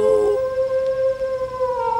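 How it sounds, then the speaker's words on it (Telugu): A jackal lets out one long, wavering howl that stays clear and fairly loud for its whole length, with no voices over it. "దూరంగా ఒక నక్క"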